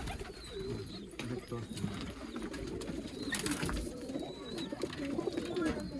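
Pigeons cooing softly amid background chatter and bustle at a pigeon sale in Bangalore, with low repeated coos under voices and faint chirps.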